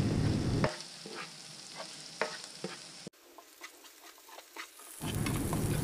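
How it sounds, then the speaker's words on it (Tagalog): Garlic, onion and ginger sauté in a pan for Filipino chicken arroz caldo, a constant sizzle broken by scattered scraping stirs, with a brief quieter gap midway. "Tuloy-tuloy lang ang halo natin habang ginigisa natin yung bawang, sibuyas at luya."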